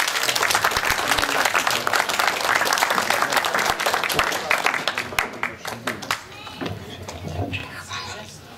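Audience applause welcoming a woman performer at an evening of Dalmatian dialect poetry in Bibinje, a dense wash of clapping that thins and fades toward the end, with a few voices emerging over it.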